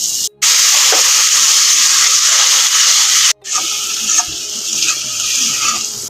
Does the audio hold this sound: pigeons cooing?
no